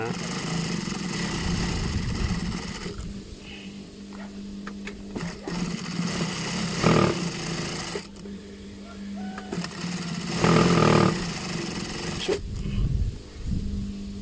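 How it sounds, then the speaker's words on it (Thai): A sewing machine stitches thick fabric in several bursts of fast, even whirring, close and fairly loud, with short pauses and someone talking between and over the runs. "นี่เย็บผ้าหนานะครับนี่เย็บผ้าหนา"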